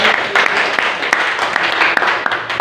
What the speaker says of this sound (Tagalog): sabay-sabay na palakpak